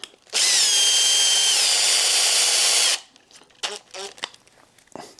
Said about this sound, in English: I don't suggest using the power drill if you're first installing these.